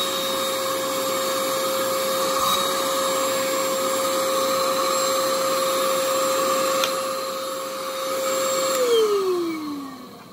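A vacuum cleaner with a full, clogged bag runs loud and close, holding a steady whine that drops in pitch as it winds down near the end.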